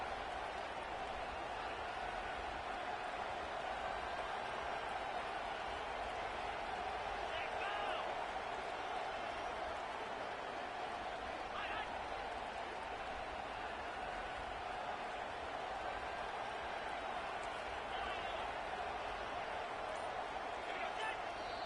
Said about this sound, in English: this crowd rises up to try to make it tough.